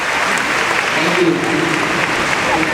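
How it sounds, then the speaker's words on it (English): A high school graduation audience applauds its mentors, a steady wash of clapping filling the hall with voices mixed in throughout. "Let us all give them a big round of applause."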